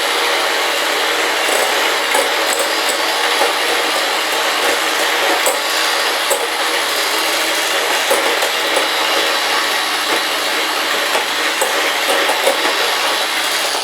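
Electric mixer whisking cream for profiteroles, a steady dense whirring drone that runs unbroken and fairly loud throughout, with no talking over it.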